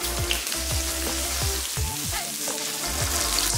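Dried radish, garlic sprouts, garlic and ginger stir-fried in hot oil in a wok, a steady close sizzle with crackling pops and occasional scrapes of the spatula throughout.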